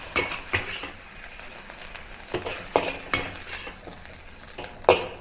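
Beef fried rice sizzling and frying in a decades-old cast iron wok, with a steady hiss broken by scraping stir strokes and sharp metallic clinks of a utensil against the pan, close and fairly quiet.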